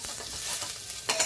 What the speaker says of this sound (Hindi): यहाँ पे फ्राई हो रहा है कटहल.